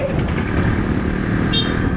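A Yamaha RX135 five-speed motorcycle engine drones steadily while riding, a loud, continuous two-stroke buzz with wind rush and no voices.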